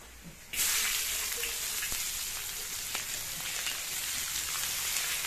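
Ginger, garlic and onion dropped into hot oil in a pan for pasta, giving a sudden loud, steady sizzle and crackle that starts after a quiet half-second and continues close up without letting up.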